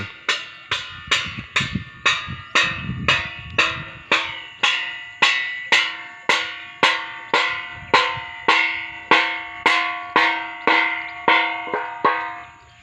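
A metal plate is beaten steadily to chase sparrows off a millet crop: about two dozen sharp, ringing clangs, evenly spaced roughly twice a second, loud and close, each with a brief metallic ring, and no talking.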